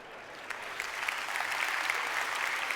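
A congregation at a church talk on faith and happiness applauds, with soft clapping that starts faint and builds into steady moderate applause over a few seconds.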